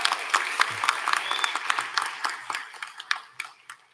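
A crowd at a graduation and awards ceremony claps for the participants: dense, lively applause with sharp individual claps standing out, tapering off slightly toward the end.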